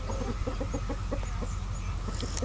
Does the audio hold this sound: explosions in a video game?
no